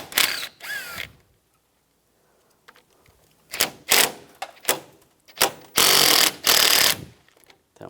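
8mm socket ratchet removing radiator bracket bolts on a 2004-2009 Toyota Prius, several close bursts of rapid clicking separated by quiet gaps, with brief speech near the start.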